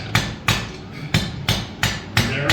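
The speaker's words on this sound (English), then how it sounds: "I plan on putting it in the iron and so I'm hammering back towards myself," Hot iron being hammered on an anvil while forging a scarf for a Dutch oven lid lifter, six evenly spaced heavy ringing blows about a third of a second apart, close and loud, with no voices.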